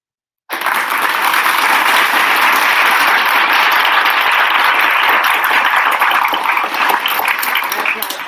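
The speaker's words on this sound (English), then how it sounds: "Because she finna get her applause" Loud, dense applause from a crowd starts abruptly after a moment of silence and holds steady throughout, a thick wash of many hands clapping together with no pauses.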